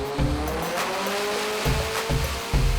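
A Nissan S15 running hard on a dyno roars loudly and close, a sustained high-revving engine drone broken by repeated sharp bursts.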